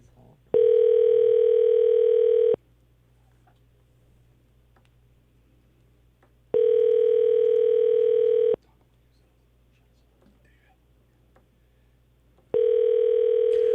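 A telephone ringback tone on an outgoing call, three loud steady two-second rings separated by long silent gaps, with no one speaking.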